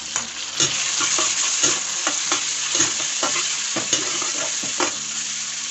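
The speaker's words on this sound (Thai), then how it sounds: "ไม่รอช้าครับผมใส่กุ้งลงไปนะทุกคน" Shrimp sizzle steadily in a hot frying pan for garlic-pepper prawns, a dense continuous hiss broken by repeated clicks and scrapes of stirring, close and loud with no talking.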